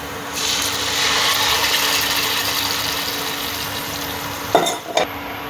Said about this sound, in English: Sauteing till the oil separates.